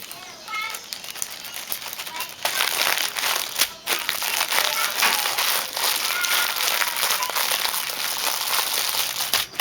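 A plastic bag of dyed rice squeezed by hand to force the air out, giving a continuous close crinkling and crunching rustle that swells after a brief quiet start and runs steadily to the end.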